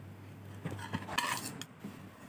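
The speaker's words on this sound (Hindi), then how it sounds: "अब इन सभी इंग्रेडिएंट्स को मिक्स कर लेंगे।" A utensil clinks and scrapes against a bowl as fruit cake batter is mixed from sifted dry ingredients and a wet mixture. A handful of soft, irregular knocks come from close by in a quiet room, with no voices.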